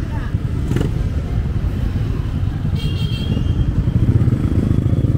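A motorcycle engine rumbles steadily nearby, with voices talking over it and a short toot partway through.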